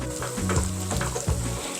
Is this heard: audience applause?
no